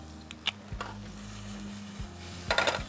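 Spices including turmeric sizzle quietly in hot oil in a pan, a soft steady frying hiss broken by a few scrapes and taps of a utensil against the pan, with no talking.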